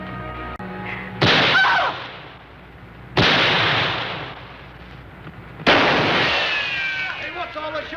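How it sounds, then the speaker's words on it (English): Three loud, close gunshots ring out a couple of seconds apart, each a sharp crack trailing into a long echoing decay in a drama scene. "Hey, what's all the shooting about?"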